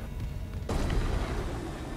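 A loud explosion in the video game Dead Space, set off with a radio beacon attached to an asteroid, hits as one sudden heavy boom partway through and leaves a dense, rumbling roar that carries on to the end.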